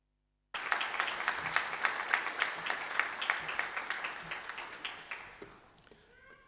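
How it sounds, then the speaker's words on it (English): Applause at a university installation ceremony for a new vice-chancellor, a steady patter of claps with scattered sharp individual hits that thins out and fades near the end. "Thank you for that round of applause"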